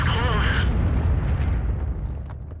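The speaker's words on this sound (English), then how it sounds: "152mm derp cannon shooting HE, it has some degree of splash" A 152mm derp cannon fires a high-explosive shell in a tank video game, a loud, deep boom that swells at once and rolls away over about two seconds, with a brief tonal game sound riding on top at the start.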